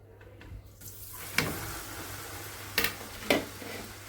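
Spice powder mixture frying in a little oil for stuffed bitter gourd, a soft continuous sizzle with three sharp scraping or stirring knocks spaced a second or two apart.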